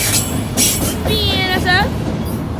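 Freight train cars from lines such as CSX, Union Pacific, BNSF and Norfolk Southern roll past loudly and close, with a steady rumble, rail clatter and wheel squeals rising through it.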